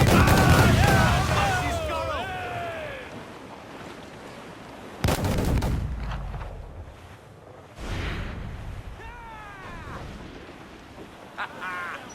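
Ship cannons boom in Assassin's Creed IV Black Flag during a naval fight, a loud opening blast followed by further heavy shots at about five and eight seconds, with shouted voices and game noise between them.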